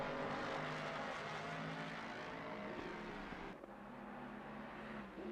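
Race cars lap the Hungaroring circuit in a racing video game, a continuous engine roar and whine that stays fairly even, then dips and shifts partway through, with no talk over it.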